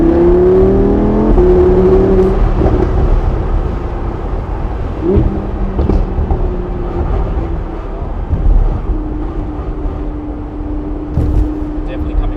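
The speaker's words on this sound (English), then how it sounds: "Shift down, full gas." Lamborghini Huracan Spyder engine climbing in pitch under full throttle after a downshift, then easing into a steadier whir with wind noise, loud and close with people talking over it.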